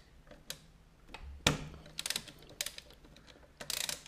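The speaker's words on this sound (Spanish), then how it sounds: "Pues tan sencillo como aflojar el tapón." Socket wrench loosening the aluminium oil drain plug on a Honda Dylan scooter, a few close metallic ratcheting clicks and clanks spaced unevenly over a few seconds, no talking.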